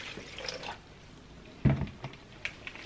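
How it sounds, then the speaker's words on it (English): Avocado-dyed yarn rinsed under running water, soft watery splashes and drips with one fuller slosh, fairly close and quiet. "Okay, let's rinse it out."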